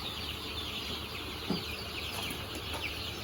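Three-breed crossbred chickens on a small farm give soft, scattered clucks at a distance, faint and low against a steady background hiss, with one slightly louder cluck midway.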